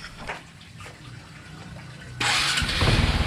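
A motorcycle engine is started close by after a quiet stretch, catching suddenly and settling into a loud steady idle with a pulsing rumble.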